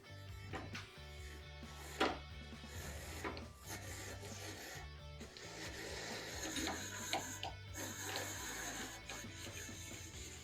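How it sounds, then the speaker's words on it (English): A hand-cranked apple peeler clamped to a table works through an apple with a continuous rasping, rubbing churn, steady and close, with small knocks and scrapes as the crank turns. "you just roll it and this thing will peel it."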